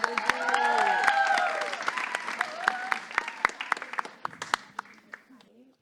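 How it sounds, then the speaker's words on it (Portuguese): Audience applause welcoming a young poet to the stage at a poetry event, a burst of clapping that thins to scattered claps, with voices talking over the crowd early on. "palmas pra Ingrid"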